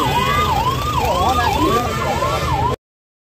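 A police pink patrol vehicle siren wails in a continuous rising-and-falling pattern, loud and close, for almost three seconds before cutting off abruptly.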